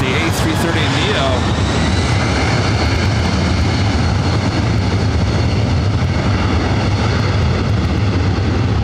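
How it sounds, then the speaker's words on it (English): Airbus A330neo jet engines in ITA service spool up for takeoff at Los Angeles airport, a loud steady roar with broad rushing noise that holds throughout, with voices talking over it. "ITA lighting up the A330 Neo"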